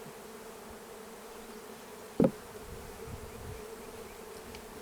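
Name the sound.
honeybees buzzing on hive frame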